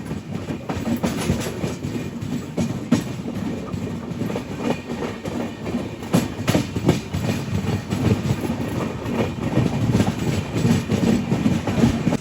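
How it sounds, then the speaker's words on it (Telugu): Riding the Jhelum Express as it passes a goods train, a steady loud roar of wheels and rushing wagons is heard with rapid clattering over the rails throughout. "గూడ్స్ బండితో cross over, mall గాడితో cross over"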